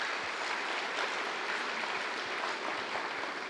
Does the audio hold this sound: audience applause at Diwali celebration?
yes